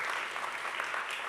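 An audience at a talk on floods and drought claps for a speaker, a dense, even patter of many hands sustained throughout at moderate loudness.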